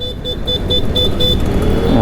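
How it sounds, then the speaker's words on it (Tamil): A 2025 Vida V2 Plus electric scooter horn sounds close and loud in a fast series of repeated short beeps that run into a steadier tone at the end. "எக்கோ மோடுக்கும் ரைடு மோடுக்கும் இந்த ஹாரன் சவுண்ட் போதும்."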